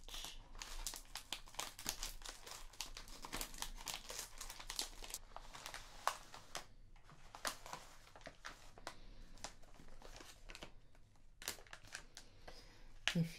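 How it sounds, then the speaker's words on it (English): A Kracie Popin mini food package is cut open and crinkled, giving continuous close, soft plastic crinkling and tearing with quick rustles that run steadily throughout. "So I'm going to begin by cutting open this"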